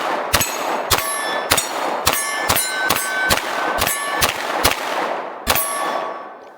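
A Glock 19 pistol fires about a dozen sharp, loud shots at a steady, unhurried pace, each crack ringing with a metallic tail, with a short pause before the final shot and no talking.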